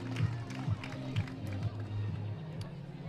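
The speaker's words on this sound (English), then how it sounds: "she exits to a nice round of applause from the Indiana faithful who have traveled down the third base line" Indiana fans give a round of applause down the third base line at a Big Ten softball tournament quarterfinal against Michigan, with scattered claps and light crowd noise in the distance beneath low, continuous commentary.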